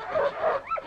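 A mean dog snarls in a western adventure film version of The Call of the Wild, a short, close, rough growl that rises and falls in a couple of bursts.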